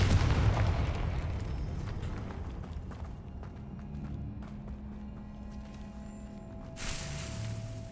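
A Confringo fire spell detonates in Hogwarts Legacy, a heavy rumbling boom at the start that decays into a low, lingering roar with scattered crackles, fairly quiet overall.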